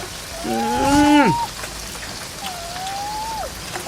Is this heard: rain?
yes